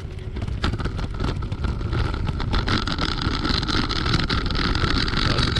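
Laotie H6 Pro electric scooter running at full power up a grassy slope with small stones, a steady loud whir with heavy wind rush continuing throughout.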